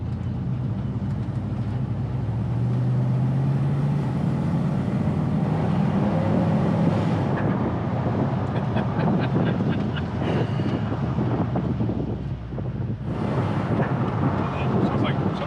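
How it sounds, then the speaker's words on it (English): An old Ford truck drives along, its engine a steady low rumble with rattling and loose clatter from a failing exhaust clamp, with continuous road and wind noise and people talking over it. "In a crappy old truck."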